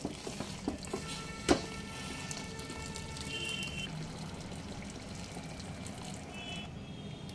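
Hot water is poured into a pot of mutton and soaked haleem mix: a steady, moderately loud wash of pouring and trickling with a sharp knock near the start.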